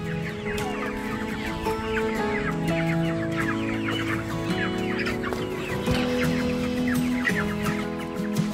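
Chickens and chicks clucking and peeping continuously at feeding time, a dense, close flock chorus with overlapping calls throughout.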